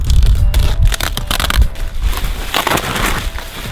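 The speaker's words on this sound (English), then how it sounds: "Let me just go ahead and unwrap them real quick." Packaged BMW E90-series aftermarket headlights being unwrapped, with loud, close crinkling and crushing of plastic and packing material in irregular bursts.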